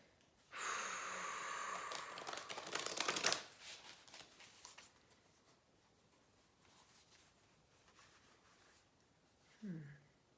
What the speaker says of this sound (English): All right, one more shuffle, one more shuffle.